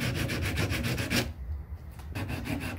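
Sandpaper of 80 grit rubbed by hand in steady back-and-forth strokes, loud and close, with a short pause partway before the scraping resumes; no talking.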